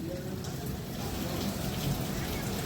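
Rain falls in a soft, continuous patter with light splashing of water, fairly quiet and steady, with no clear voices over it.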